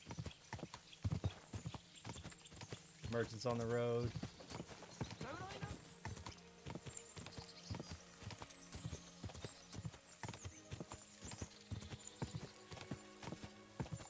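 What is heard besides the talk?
horse hooves while riding, from video game Kingdom Come Deliverance 2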